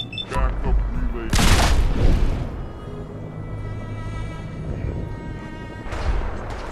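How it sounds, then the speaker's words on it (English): Gunfire in Fallout 4 during a battle at Bunker Hill, a few loud booming shots with a heavy burst early on, then quieter game noise with another blast near the end, under occasional talk. "We're going shooting. Yep, we going shooting!"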